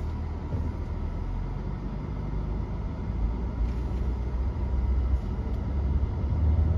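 Inside a car fitted with a dashboard head-up display, the drive produces a steady low road and engine rumble throughout, moderately quiet, with no talk.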